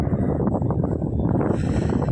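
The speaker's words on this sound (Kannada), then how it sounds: "ತುಂಬ ತುಂಬ ಚೆನ್ನಾಗಿ ಗಾಳಿ ಬರುತ್ತೆ" Wind blowing in through a room window, a steady broadband rush with buffeting microphone noise that swells slightly toward the end, close and continuous with no speech.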